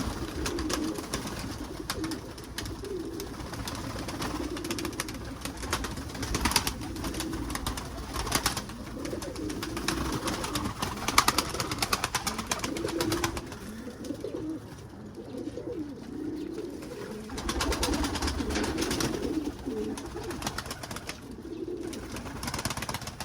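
Pigeons cooing steadily in a loft, a near, continuous chorus of soft throaty coos and burbles with faint rustling and occasional wing movement throughout, no talking.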